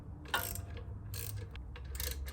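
A socket ratchet works bolts on a Harley-Davidson Street Glide motorcycle, giving three short bursts of rapid clicking over a low background hum, close and fairly quiet.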